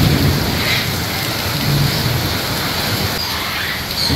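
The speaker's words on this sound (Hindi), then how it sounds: "सुबह से तेज बारिश, और बिजली भी कड़क रहा है भयंकर से" Heavy rain pours in a steady, dense roar throughout, loud and close, with low rumbles of thunder blending beneath during an intense storm.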